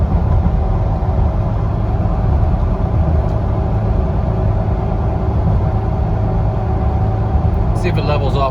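Steady low engine drone and road rumble inside a Jeep Gladiator cruising at 60 mph in sixth gear around 2,100 RPM on cruise control up a slight hill, constant and even with a brief higher rattle near the end.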